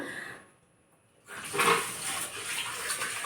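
Lentils are washed under running water from a tap, which comes on after a brief quiet and then gushes and splashes steadily, close by, with no voices.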